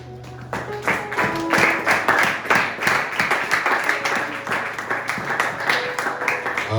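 A church congregation claps together in steady rhythmic applause, a dense roomful of hands with some tapping and faint tonal notes mixed in.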